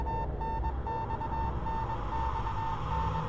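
Repeated electronic beeps of uneven length tapping out Morse code in the horror game Spirit Hunter: Death Mark, a steady tone pulsing over a low droning ambient bed, fairly quiet and unaccompanied by talk.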